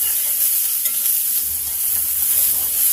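Green peppers and onions sizzling in a pan on medium heat, a dense, steady hiss of frying close by, no voices.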